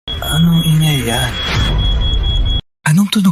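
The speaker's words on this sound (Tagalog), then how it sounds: "Gas alarm yan." A gas alarm sounds inside a villa as one steady high-pitched electronic tone, loud and continuous, under people talking before it cuts out abruptly.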